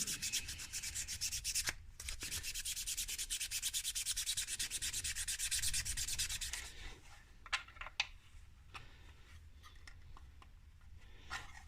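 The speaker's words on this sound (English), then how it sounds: "Just sand the bolt a little bit." A bolt being sanded by hand on a robot foot build: steady close rubbing strokes in a fast rhythm, then a quieter stretch with a few scattered scrapes and clicks.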